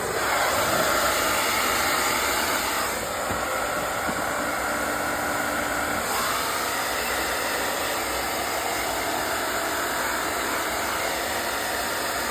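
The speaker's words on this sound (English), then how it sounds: "So I'm gonna take the blow dryer and just give it a go." A blow dryer roars steadily up close with a constant airy whoosh, its pitch shifting briefly as it's moved, and nobody speaking.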